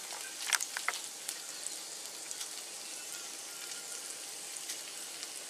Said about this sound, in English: You see it's sizzling just a little bit, and the sausage right here on the aluminum foil.